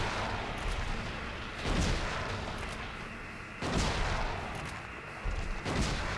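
Hunting rifle fired in the survival horror game Silent Hill 2: two heavy, booming shots a couple of seconds apart, each with a rumbling decay, no talk.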